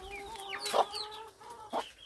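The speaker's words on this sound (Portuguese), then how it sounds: "E aí, a galinha pôs um ovo, né?" A hen on a small farm clucks loudly right after laying an egg, with two close, sharp bursts of cackling over quieter background chatter of poultry.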